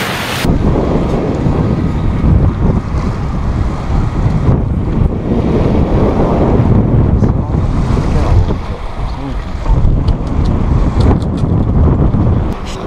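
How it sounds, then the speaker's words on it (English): Strong wind roars steadily over the microphone while sailing on Lake Grapevine, a loud continuous gusty rush with water and waves beneath it, no voices. "Wind just picked up."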